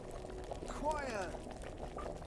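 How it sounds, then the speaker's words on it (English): Wine bubbles at a boil in Kingdom Come: Deliverance, a faint, steady simmer with a brief burst of bubbling under a speaking voice. "I can't sleep with the sound of that boiling wine"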